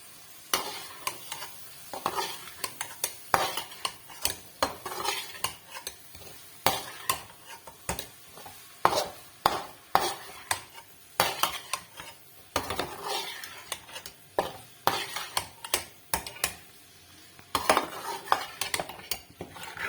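Minced meat being stirred in a pan for shami tikki, with repeated metal spoon scrapes and clinks against the cookware and a faint sizzle underneath, steady and close with no talking.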